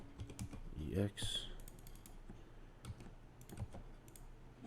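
Quick, light keystrokes on a computer keyboard come through as short irregular bursts of clicking, faint and close, while someone talks over them.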